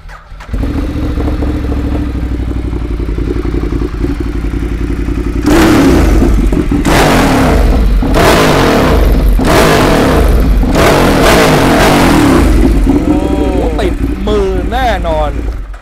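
A 2014 Ducati Monster 1200 with about 28,000 km on it roars loudly while being ridden, its engine rising and falling in repeated revving bursts, with someone talking over the sound.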